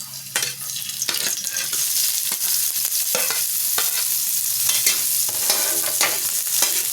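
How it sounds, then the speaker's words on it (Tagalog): Garlic and onions sauté in a hot pan for spicy eggplant with ground pork, a steady loud sizzle broken by repeated scraping stirs of the spatula, no voices. "Magigisa muna tayo ng mga bawang at sibuyas."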